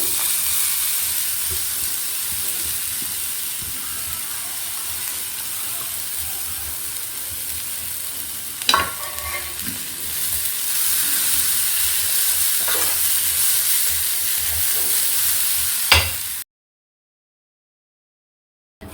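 Dry prawn shells roast and get stirred in a pan, giving a steady soft crackling hiss with a few sharper scrapes of the spoon, close and alone.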